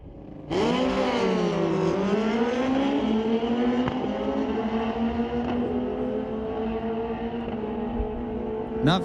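Cody Compton's 2008 Suzuki drag racing motorcycle with a 1340cc engine, running in the right lane at an NHRA Canadian Sportsnationals drag strip, bursts into a loud sustained engine roar that rises in pitch and holds steady as it races down the strip.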